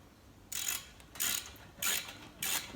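A socket wrench ratchets to tighten the strap bolt of a chimney cowl, four short clicking bursts in a steady rhythm, close and fairly quiet, with no talking.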